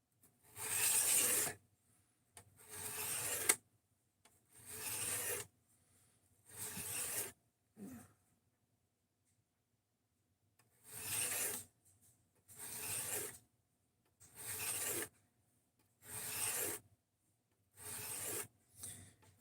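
A knife blade rasps across a 600-grit whetstone in regular strokes, each lasting about a second, with short pauses between groups of strokes.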